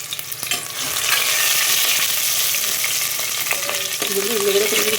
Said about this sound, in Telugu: అప్పుడు మనము కట్ చేసుకున్నటువంటి ఉల్లిగడ్డలు కదా, ఆ ఉల్లిగడ్డలు వేసేసుకుందాము.